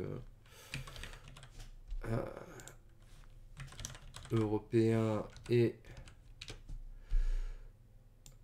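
Rapid clattering keystrokes on a French-layout computer keyboard come in bursts, close and crisp, while someone speaks briefly between the typing.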